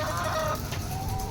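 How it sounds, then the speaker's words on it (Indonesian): Laying hens cluck and murmur in a coop, several birds calling close by in a short busy burst without talk. "Ini ayam kandang kedua nih guys."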